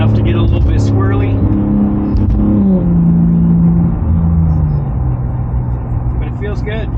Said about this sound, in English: Let's give it a little bit of gas here.